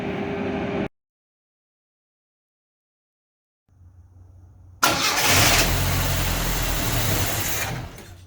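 A Yugo car engine cranks and catches, then settles into a loud, steady running rumble close by, following a brief silence and a low hum before ignition.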